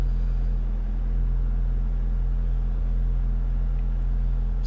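A 2001 Saturn S-series car engine idling while warming up from cold, a steady low hum and rumble held evenly throughout with no voices.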